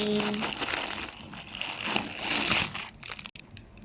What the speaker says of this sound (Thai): เป็นถุง ถุงเอาไว้แพ็คของนะคะ